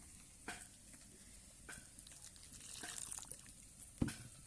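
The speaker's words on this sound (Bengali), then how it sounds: "এখানে লঙ্কা হলুদটা ভালো করে মিক্স করে নিলাম" Chili and turmeric stirred into frying spices in a pan for a home-cooked meat curry, a soft steady sizzle with scraping stir strokes and a couple of sharper utensil knocks, close and alone.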